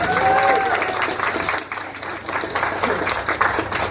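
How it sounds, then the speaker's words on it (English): At a cosplay contest during Jacksonville Anime Day, a crowd claps for a winner. The applause is loud and sustained, dips briefly midway, then swells again, and a voice is heard near the start. "All right, we'll give him another round of applause."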